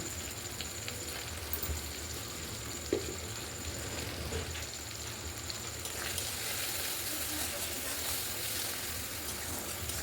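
Spice mix of ground coriander, cumin powder and salt frying in a pan, giving a steady, dense sizzle that runs unbroken throughout at moderate loudness with faint stirring scrapes and no voices.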